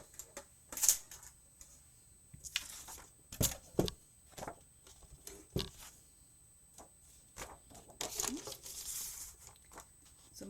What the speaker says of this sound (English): I'm going to cut this out